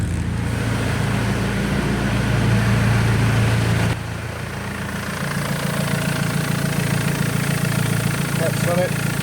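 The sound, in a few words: BMW X3 engine idling while warming up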